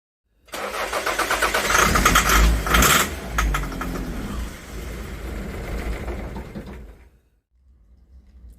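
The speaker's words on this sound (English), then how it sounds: "spray instant engine starter into the air intake. This will let us know if the spark plugs are working, because it should run the engine briefly" A neglected Toyota Celica 3S-FE engine, dosed with starter spray in the air intake, cranks loudly and close, catches roughly for a few seconds, then cuts out.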